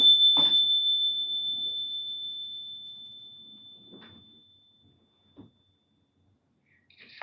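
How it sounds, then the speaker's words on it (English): A high-pitched steady beep tone rings out loudly at first and slowly fades over about five seconds, followed by a couple of faint clicks near the end. "Is that frequency beep at the end?"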